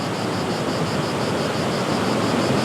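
The Sorgue river rushes at Fontaine de Vaucluse, a dense, even, close roar of flowing water that holds steady throughout with no voices.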